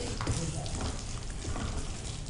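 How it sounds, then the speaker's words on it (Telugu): Melon seeds and raisins frying in ghee, giving off a steady, close, continuous sizzle with slight stirring rustles throughout and no speech. "గింజల్ని మనం నేతిలో ఫ్రై చేసుకోవాలి."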